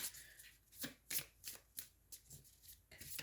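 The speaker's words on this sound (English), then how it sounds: "you're really making me shuffle these cards" Tarot cards are shuffled close by in quick, crisp riffling bursts, about eight rustling flicks spaced unevenly across a quiet background.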